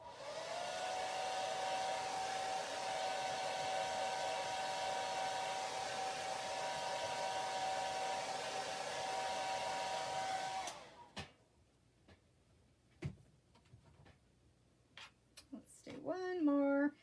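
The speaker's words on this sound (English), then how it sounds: "Maybe we should hit at him with a blow dryer first" A blow dryer roars steadily and close with a constant whine while drying a chalk transfer, then cuts off abruptly, leaving faint taps and handling sounds.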